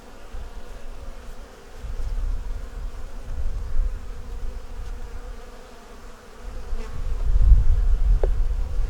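A steady, dense buzz of many honeybees at an open hive close by, droning continuously and swelling louder toward the end.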